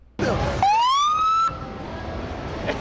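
A police car siren gives one rising wail that climbs and holds steady, loud and close, then cuts off abruptly, leaving faint background noise.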